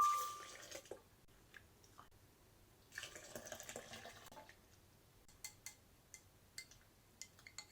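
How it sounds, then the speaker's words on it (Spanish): Water is poured into a blender jug while making homemade vegan shower gel, starting with a brief pour, then scattered drips and splashes followed by light clinks and taps, near and quiet. "Ahora necesitamos 400 gramos de agua."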